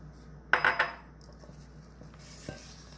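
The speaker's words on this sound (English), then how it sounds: "we're going to stir in by hand our toffee chips" A few quick clinks of a spoon against a mixing bowl as toffee chips and chocolate chips are stirred by hand into cookie dough, a short close burst followed by quiet.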